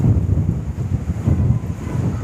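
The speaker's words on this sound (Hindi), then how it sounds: "काफ़ी प्यारी हवा चल रही है, ठंडी ठंडी, यहाँ पे पानी का किनारा है।" Cool wind blows steadily at a waterside film shooting location from the 2007 comedy Dhamaal, buffeting the microphone with a continuous low rumble and no voices.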